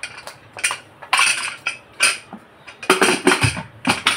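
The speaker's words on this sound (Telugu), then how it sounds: "కుక్కర్ మూత పెట్టేసి విజిల్ పెట్టేసి" Metal clinks and clatters as a pressure cooker lid is closed and its whistle weight fitted before cooking dal, a series of close, sharp knocks and scrapes with short pauses between them.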